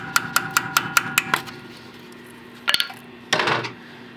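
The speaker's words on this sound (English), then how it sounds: "I always like to start with a hammer and just tap them a little bit." A small hammer taps rusty brake line fittings in a quick series of about seven sharp, bright metallic ticks, then after a pause come two louder clanks, close and alone with no talk.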